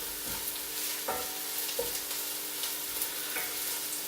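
Ingredients for an almond chicken curry stirred in a frying pan, a steady soft sizzle with a few scraping utensil strokes against the pan, close and continuous with no talking.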